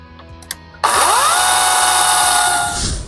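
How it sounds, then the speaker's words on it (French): An electric chainsaw bites into a wooden beam at close range, its motor surging to a loud, steady whine that holds for about two seconds and then begins to ease off, with faint clicks just before it starts. "Toujours la tronçonneuse électrique, c'est vraiment un jouet ce truc"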